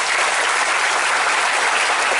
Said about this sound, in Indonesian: Tepuk tangan untuk Pondok Al-Jayati.